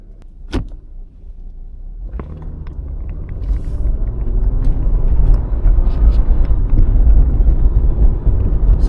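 A Lexus IS250 in manual mode pulls away from inside the cabin, a low engine rumble that swells and grows steadily louder, with a few early clicks and knocks before it.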